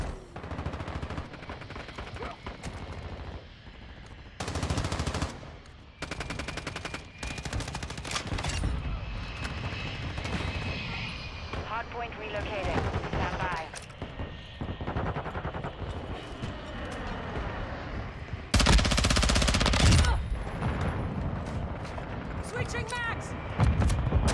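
Rapid gunfire bursts and loud booms from decoy grenades in the shooter game Modern Warfare II, with an MP7 in play, come as repeated close crackling volleys with brief gaps, and a voice talks throughout.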